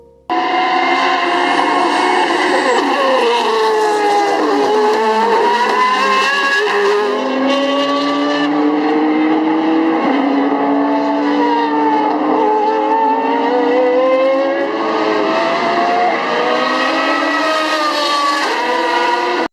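A loud, sustained V8 engine roar from a Japanese car, rising and falling in pitch as it revs through gears, with a high tonal whine riding over it.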